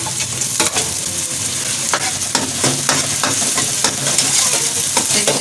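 Chopped tomatoes stirred into a hot pan for baingan bharta, with a steady loud sizzle of frying and repeated scraping strokes of the spoon throughout, no voices.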